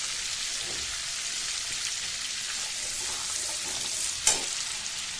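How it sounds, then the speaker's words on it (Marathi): Cumin seeds crackle in hot butter after mustard seeds in a pressure cooker for pav bhaji, a continuous close frying hiss with one sharp click near the end. "मोहरी नंतर जिरं घालायचं"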